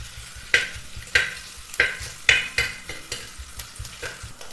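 Coconut pieces frying in ghee for a Kerala payasam, with a spoon scraping the pan in regular strokes about every half second over a soft background sizzle.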